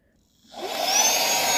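A Meco mini vacuum cleaner fitted with a small brush nozzle switches on from silence and settles into a steady, whiny suction hum, close by, with no talking.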